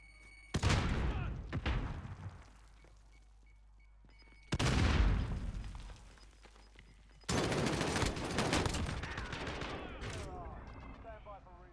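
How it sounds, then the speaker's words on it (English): Grenade blasts and gunfire in the video game Call of Duty Warzone: three loud booming explosions spaced several seconds apart, each followed by a rumbling decay and crackling shots, with game voice lines mixed in. "Grenade out!"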